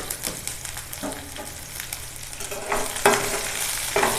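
Onions sautéed in a pan for eggplant poriyal, a close continuous frying sizzle broken by several scraping stirs of a spoon, with a couple of louder knocks toward the end.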